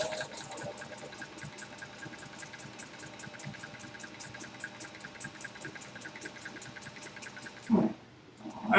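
A sewing machine stitches fabric for a drawstring purse bag, running with a steady rapid mechanical whir and needle clatter close by, then briefly stopping with a knock near the end.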